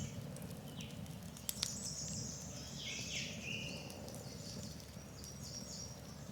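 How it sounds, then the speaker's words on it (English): Birdsong carries faintly at a creekside campsite in Beaver Creek Valley State Park, Minnesota's Driftless Area: scattered high chirps and trills drift over a steady low outdoor rumble, with one brief sharp tick partway through. "If you ever want to know what birds are in my videos in the background."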